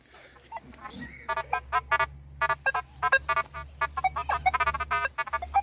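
Rapid, choppy iron-signal tones from a Nokta Makro Legend metal detector at a rubbish dump chirp in quick irregular bursts, loud and close over a low steady hum.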